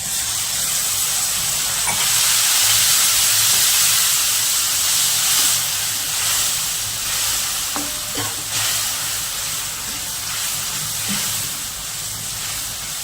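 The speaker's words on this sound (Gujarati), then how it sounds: "હવે આપણે આ લસણ ને મરચું ખાંડેલું હતું એ નાખી દઈએ।" Crushed garlic and chili hitting hot fried onions in a pan, a steady loud sizzle and hiss of oil throughout with a few faint clinks of stirring, no talking.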